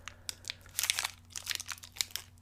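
Crinkly plastic wrapper being torn open on an almond candy bar, a close series of sharp crackles and rustles in uneven bursts.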